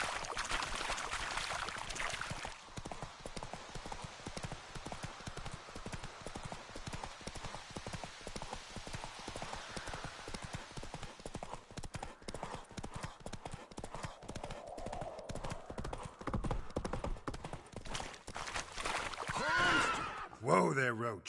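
Roach, the horse in The Witcher 3: Wild Hunt, gallops in a continuous rapid clip-clop of hooves from start to finish, close and steady, with voices talking over the hoofbeats.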